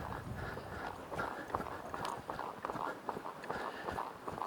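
Horse hooves clip-clop at a steady trot on the footing of a dressage arena, working through bends and counter-bends, with rhythmic moderately close footfalls continuing throughout.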